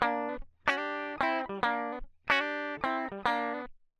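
A country guitar lick played with distortion rings out in clear repeated phrases of bright sustained notes, played twice in a row, loud and alone with no talking.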